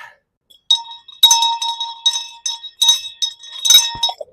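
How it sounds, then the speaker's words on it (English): A bright metallic bell rings repeatedly in a quick, uneven pattern, clear and close, after a moment of near silence. "you got to ring the bell, boys"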